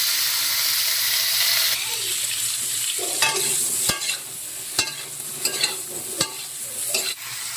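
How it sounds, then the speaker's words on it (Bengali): Brinjal pieces frying in oil already used for frying fish, a steady hiss that turns busier and crackly, broken by several sharp clacks of a spatula against the pan; no one talks. "এবার আমি মাছ ভাজার তেলেই বেগুনগুলো ভেজে নেব"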